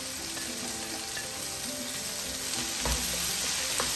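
Capsicum sizzling in a frying pan with onion for restaurant-style chilli chicken, a steady loud crackle throughout with a brief thump and stir near the end, no talking.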